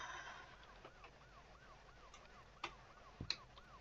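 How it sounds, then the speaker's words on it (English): A police siren in the psychological horror video game Luto wails, rising and falling repeatedly at moderate distance, faint and steady, with a few sharp clicks and knocks nearby. "And we're hearing sirens."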